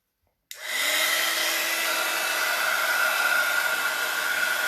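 A hair dryer switches on abruptly and blows continuously to heat puffy snow paint, a loud, close, steady whirring roar with a high whine that holds unchanged to the end.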